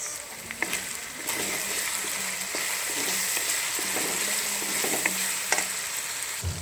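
Chicken with turmeric, red chili and salt is stirred and fried in a pan for macaroni, giving a steady close sizzle broken by scraping spoon strokes.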